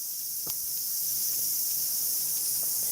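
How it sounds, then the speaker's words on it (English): Cicadas buzz among trees in a steady, bright, high-pitched drone that holds evenly throughout, with no talking. "cicadas,"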